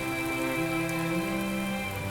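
Rain falls steadily in a continuous even hiss of drops on a surface, with a sustained tonal hum layered underneath and no voices.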